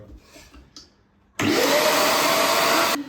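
A household vacuum cleaner switches on abruptly after a quiet stretch with faint background sounds, then runs loud and steady with a rising whine before cutting off near the end.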